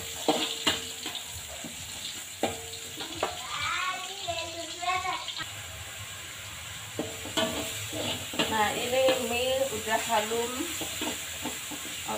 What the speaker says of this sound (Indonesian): Saya saya goreng bawang merah